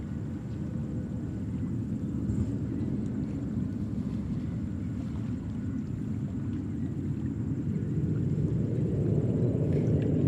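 A jet airliner takes off at JFK Airport with a continuous deep, low roar that holds steady and swells slightly toward the end, with no voices over it.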